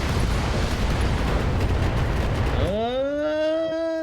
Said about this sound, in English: Firing a full salvo.